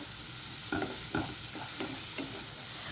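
Turmeric and ginger-garlic paste stirred in a frying pan: a continuous sizzle with several distinct scraping strokes of the spoon at an irregular rhythm, close up, no voices.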